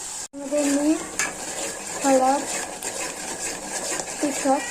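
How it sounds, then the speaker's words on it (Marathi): A spoon stirs tarri poha gravy in a metal pan, scraping and clinking against the sides in a few short bursts, while someone talks over the cooking. "मिक्स करून घ्यायचा छान कलर येतपर्यंत हलवत राहायचं"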